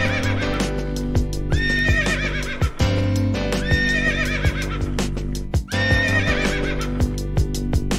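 Horses whinnying repeatedly in a cartoonish equestrian hurdle race, loud and close, with a clip-clop hoof rhythm running steadily underneath.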